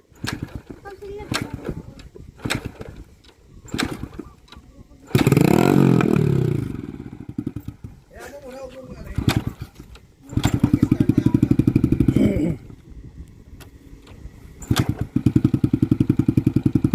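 A motorcycle engine revs and idles in bursts on a rough road, loud and close, with clattering and thuds between revs while people talk over it.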